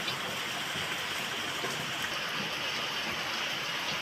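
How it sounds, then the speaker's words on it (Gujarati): Rain falls outdoors in a forest setting during the first rains, a continuous soft even hiss of drops with no breaks and no speech. "તમને વરસાદનો થોડો ઘણો અવાજ આવશે હો, કારણ કે વરસાદ જોવો પડે જ છે."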